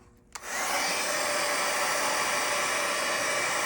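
A hair dryer blows air over a watercolor painting, switching on after a brief quiet moment and then holding a loud, steady, even whoosh with no talking.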